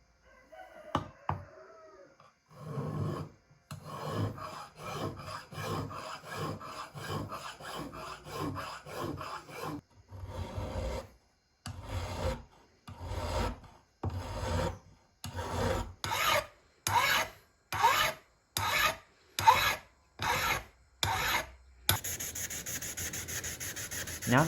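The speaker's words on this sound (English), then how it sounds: "But then I switch to hand files for the finer precision work." Hand files rasp against metal while shaping a parrying dagger's guard, in a series of separate, evenly spaced strokes that speed up and grow louder midway. A brief rooster-like squeak comes early on, and no one talks.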